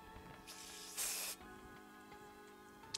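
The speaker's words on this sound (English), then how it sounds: "So I'm gonna spray mine to about right here." A few short hisses of wig lace spray, the last one longest and loudest, close by against a quiet background with a faint steady hum.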